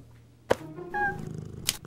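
A cat in the video game Deponia gives a short, tonal meow-like cry between two sharp clicks, close and moderately loud, with no talking.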